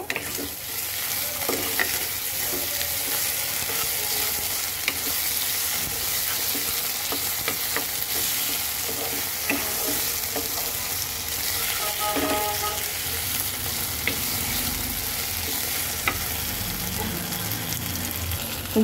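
Soybean curry sautéing in a pan with green chilli and tomato, a steady close sizzle broken by frequent scraping stirs that knock against the pan throughout, with no talking.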